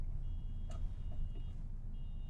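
Faint steady reversing beeps from a vehicle ring out above a loud, continuous engine and road rumble outdoors, with no talk.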